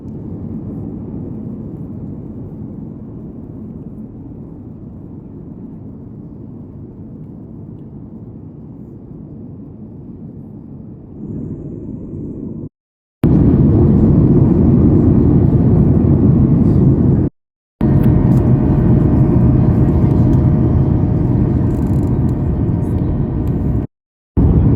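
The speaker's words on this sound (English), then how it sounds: "we're getting close to Keflavik Airport again" Inside an Icelandair airliner cabin approaching Keflavik Airport, a steady broadband engine and air roar drones continuously, getting louder and harsher partway through, with brief breaks in the sound and no voices.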